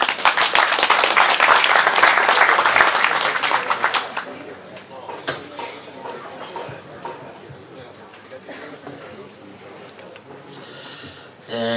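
Warm audience applause at a Greek book presentation evening, loud dense clapping for about four seconds that thins into scattered claps and murmuring before a voice returns at the very end.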